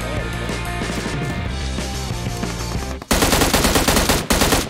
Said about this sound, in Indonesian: Ada yang nembak nih.